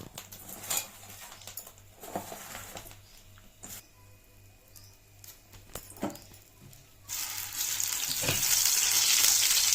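Bitter gourd pieces fry lightly in a pan after flour is added for a curry, with a steady soft sizzle and occasional stirring clatter that swells louder and brighter toward the end.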